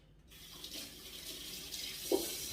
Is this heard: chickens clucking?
no